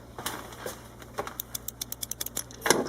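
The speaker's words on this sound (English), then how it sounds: "It's a big button that pushes down on a micro switch, kind of like what you'd find in a mouse" A micro switch under a large button on an X-ray film developer machine clicks in a rapid series of about ten sharp, close ticks, with a few louder clunks before and after.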